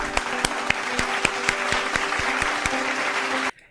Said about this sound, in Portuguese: Olha, salve de palmas.